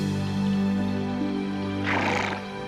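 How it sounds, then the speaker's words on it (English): A horse whinnies loudly and close, a long tonal neigh that ends in a breathy, rattling snort. "or our noble steed, the horse."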